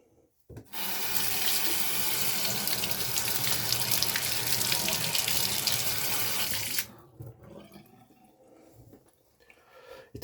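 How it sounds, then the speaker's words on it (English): Water runs steadily from a tap as something is rinsed under it, a loud continuous splashing rush that stops abruptly near the end, leaving quiet room noise. "Let's go ahead and rinse this off."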